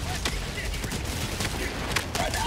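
An autocannon sentry opens fire in Helldivers 2 against automatons, a run of heavy rapid bursts that form a dense fusillade over battle noise.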